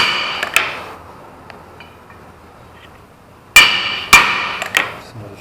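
A fifty-year-old copper hammer strikes metal while a Lada Niva gearbox is removed, with a couple of sharp blows near the start, then a quiet gap and a close cluster of three loud ringing hits.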